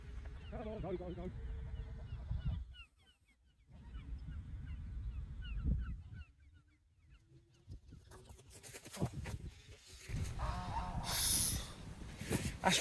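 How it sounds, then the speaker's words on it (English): A goose honks at intervals outdoors at a long-range air rifle shooting spot, the calls rising and falling with voices and other outdoor noise in between. "that goose has got to go"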